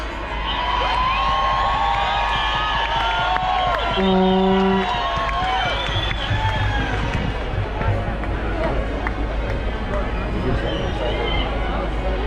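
A crowd at a Sydney rally cheers and shouts in a loud, sustained roar, with whoops and a whistle-like tone rising over the babble and people talking nearby throughout.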